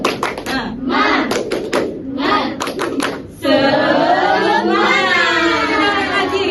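A high school classroom of students claps a rhythmic group pattern, short bursts of sharp claps mixed with chanted voices, then breaks into loud shouting together.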